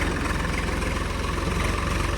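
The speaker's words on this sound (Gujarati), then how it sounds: "ટ્રેક્ટર ફસાઈ રહ્યું છે આપડે" A tractor engine runs at a steady, close idle-like rumble while the tractor is stuck in a pit, with a continuous low throb and no voices.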